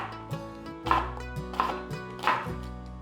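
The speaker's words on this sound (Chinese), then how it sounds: "把小黄瓜切丁状" A knife dices cucumber on a cutting board in a home vegan kitchen, sounding as three or four distinct, evenly spaced thuds close to the listener, with no voices.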